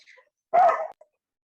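A single dog gives one sharp, fairly loud bark close by, with a faint yip just after and quiet sounds just before, otherwise silence.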